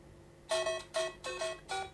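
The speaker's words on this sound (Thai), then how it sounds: "ยกตัวอย่างในที่นี้นะครับเสียงซูเปอร์มาริโอนะครับ" Super Mario video game ringtone melody: four short bright electronic note bursts in an even rhythm, close and clear with no talking.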